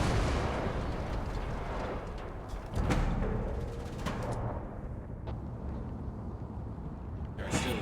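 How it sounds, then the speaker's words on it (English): A big explosion in the Mad Max video game sets off a loud, dense rumbling blast with a sharp burst near the three-second mark, a few smaller pops after it, and a fresh crack right at the end. "Big kaboom."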